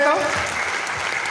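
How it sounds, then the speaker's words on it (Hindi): A crowd claps steadily and loudly throughout, with a brief voice heard at the very start. "एक बार सर के लिए जोरदार तालियां होनी चाहिए।"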